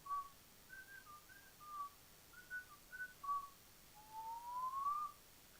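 A person whistles a tune alone, a run of short, clear melodic notes followed by a longer rising, sliding phrase, close and fairly quiet.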